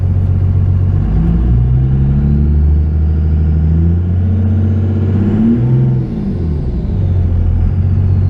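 A Cummins diesel truck engine revs steadily and close by, a deep rumbling drone that rises and falls in pitch over several seconds without any talking.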